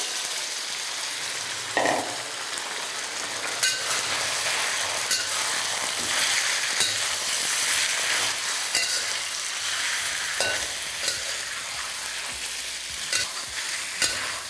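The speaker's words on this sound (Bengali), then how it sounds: "এবার এই আদা রসুন আর চিকেনটাকে তেলের মধ্যে ভালো করে আপনাদের ফ্রাই করে নিতে হবে।" Chicken pieces with ginger and garlic fry in hot oil on high flame, a loud steady sizzle with a spoon stirring and scraping the pan at intervals, no talking.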